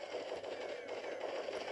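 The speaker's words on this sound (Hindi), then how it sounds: "मैं बस ऐसे ही हवा में गोलियां चला रहा हूँ।" A gun fires into the air in the Dead Trigger 2 shooter game, a rapid, continuous automatic burst with sharp repeated cracks at a steady rhythm, moderately loud and without speech.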